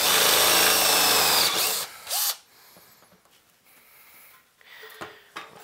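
A power drill bores a larger hole through wood with a stepped-up bit, a loud whining burst that cuts off, then quieter scraping and handling noises.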